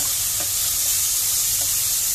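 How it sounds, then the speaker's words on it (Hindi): Chopped onions sizzle steadily in hot oil in a home kitchen while a masala is cooked, a constant close hiss with faint stirring clicks and no talking. "ये प्याज भूनेंगे अच्छे से दोस्तों।"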